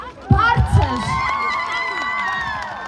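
At an outdoor town concert, the crowd cheers and shouts, children's voices rising in excited whoops over a steady, lively roar close by.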